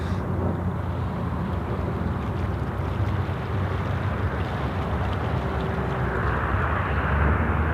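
Velocity airliner rolling down the runway for takeoff to Hobart at Sydney Airport, a steady broad roar of engine and wind noise that holds throughout and swells slightly toward the end.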